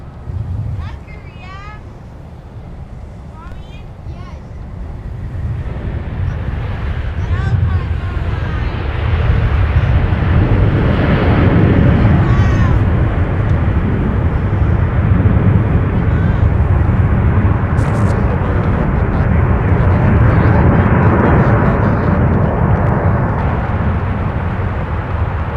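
An airplane takes off at MSP airport, its engine roar building from a distant rumble into a loud, sustained jet thunder that holds to the end, with people talking over it early on.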